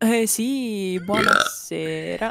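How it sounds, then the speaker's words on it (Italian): A long, drawn-out burp from a man on an Italian live stream, loud and close, with brief speech before and after it. "Intanto devo ruttare"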